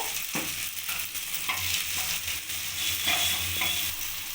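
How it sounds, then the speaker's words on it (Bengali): Continuous sizzle of garlic and green chilies frying in oil, with occasional scraping stirs and soft pops, close and fairly loud. "কাঁচা লঙ্কা রসুনটা ভালো করে ভাজা হয়ে গেছে"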